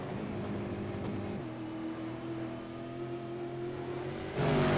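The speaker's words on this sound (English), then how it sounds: "Very subtle sound from on board in the nose of the car" Onboard engine sound from a supercar racing at the Montreal circuit: a steady, droning engine note that drops in pitch partway through, then bursts suddenly louder right at the end.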